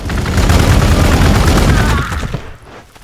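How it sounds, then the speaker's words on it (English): Dense, loud gunfire from Space Marines in the strategy game Warhammer 40K Gladius rattles in a continuous volley, then fades out near the end. "get some guns going on these Chaos Cultists"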